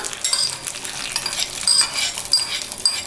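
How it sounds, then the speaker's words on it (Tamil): Hot tempering of onion and curry leaves is tipped into simmering spinach and toor dal, giving a bright crackling sizzle with a few metallic spoon clinks and stirring scrapes. "பாருங்கள் பருப்பு கொதிச்சுட்டுருக்குது இருக்குது கொட்டிடலாம்"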